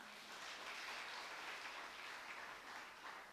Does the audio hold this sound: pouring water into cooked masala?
no